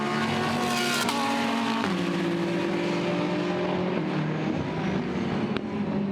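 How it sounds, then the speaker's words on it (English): A GT race car in a Blancpain GT Sports Club qualifying race in Hungary brakes hard into a corner, its loud, close engine note stepping down through downshifts before holding a steady droning tone. "now hard on the brakes, turning through turn 5"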